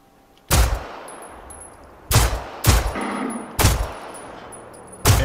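Gunfire from the video game Generation Zero hits armored targets: five sharp, loud shots spaced about a second apart, each followed by a brief ringing metallic clang, with no talking.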